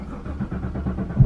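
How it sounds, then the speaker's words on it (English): A Chevrolet Camaro ZL1 engine turns over in a cold start, a short burst of cranking pulses that ends in a sudden low roar as it catches, close and solid. "nice little cold start there"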